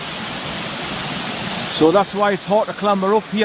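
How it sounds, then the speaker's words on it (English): White water rapids rush below a waterfall towards a bridge, a steady broadband roar that continues under a voice once he starts talking. "all these white water rapids going down towards where the bridge is"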